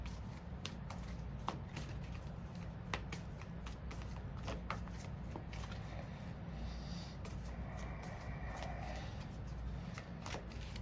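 Tarot cards are shuffled close to the mic, a quick run of soft riffling flicks and slaps over a low steady background hum, quiet overall with no talking.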